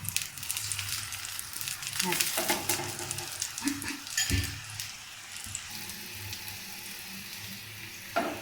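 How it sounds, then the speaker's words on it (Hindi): Maize roti fries in desi ghee on a hot griddle with a steady close sizzle and crackle, plus occasional pressing or flipping thumps. "हमने आगे पीछे देसी घी लगाकर मकई की रोटी तैयार कर लेनी है"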